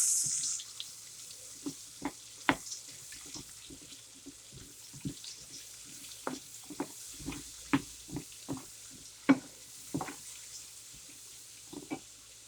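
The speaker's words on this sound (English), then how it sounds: "I'm going to go ahead and put in the onions. Stir it around a bit." Onions stirred in a pan with pork chops give off a soft, steady sizzle, punctuated by a series of light scraping and tapping sounds from the stirring, fairly close and quiet with no talk.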